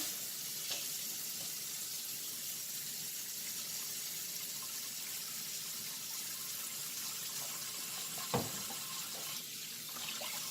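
Hot water pours steadily into a tub being filled to soak wiring harnesses in a cleaning solution, a constant faint rushing hiss with a single small knock partway through.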